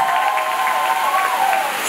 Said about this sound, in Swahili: Hebu nipigie makofi mwenyewe.